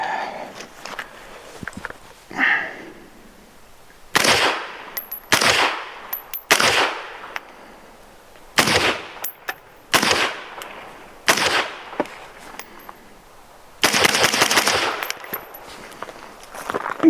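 Rifle shots from a 12.5-inch barrel fitted with an RR Weapons Ventus 556 flow-through suppressor ring out one at a time, sharp muffled cracks spaced a second or two apart with quiet gaps between them.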